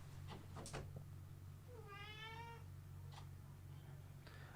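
A cat gives a single drawn-out meow indoors, faint and alone over a steady low hum, with a few soft knocks around it.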